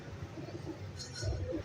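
A pigeon gives a low, soft coo close by, brief and muffled against faint background noise.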